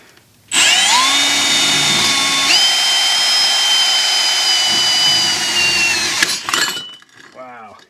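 A stepped-point drill bit bores into aluminum with a loud, steady power-drill whine for about six seconds. The tool then winds down in a brief rough burst, and a short voice follows.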